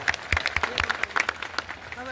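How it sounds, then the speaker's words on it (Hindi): An audience at a lecture event claps in welcome, scattered, uneven hand claps heard close with a voice speaking over them. "मैं चाहता हूं कि सबको एक साथ आप सब ताली बजाकर स्वागत कर दें"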